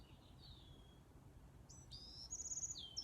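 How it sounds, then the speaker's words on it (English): Birds sing in a backyard with several short chirps and whistled calls at moderate distance, sparse at first and growing busier toward the end over a faint steady background hum. "Yes, birds are singing."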